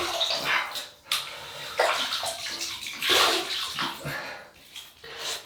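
Water runs from a tap while a man wets his face before shaving with a Gillette Super Speed razor, a close, splashy rushing that surges and breaks as hands scoop and splash, with brief pauses between handfuls.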